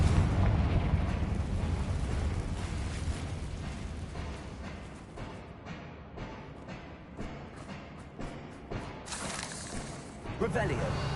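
Confringo fire-spell blasts in the video game Hogwarts Legacy boom and rumble in bursts, some sharp and crackling, layered over game ambience and voices.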